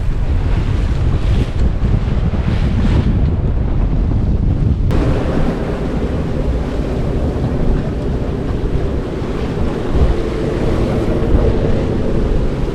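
Strong wind rushes across the microphone while waves surge and slap against a small long-keel sailboat on a beam reach in 20-25 knot winds in Denmark, sailing on a second reef. The roar is loud and steady throughout.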